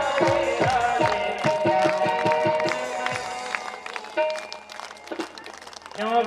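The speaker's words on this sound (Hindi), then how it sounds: "दोनों हाथ उठा के ताली बजाते हुए राधे राधे राधे राधे" Devotional gathering at a Bhagwat Katha where an audience claps rhythmically with hands raised while chanting Radhe Radhe, with a steady beat of claps under loud singing voices and music.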